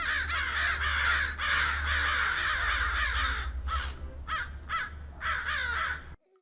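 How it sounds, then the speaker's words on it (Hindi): A crow caws loudly and close in repeated harsh bursts, a long run of calls followed by several spaced single caws, over a low steady hum. "क्रो मीन्स कौवा की साउंड को काऊ बोलते हैं"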